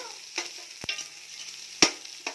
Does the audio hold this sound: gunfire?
no